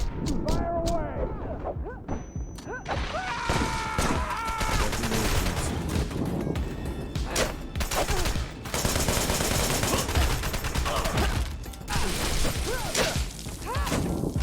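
Sustained video game firefight with dense, continuous gunfire volleys and crashing impacts throughout, loud and busy, with voices shouting over the battle.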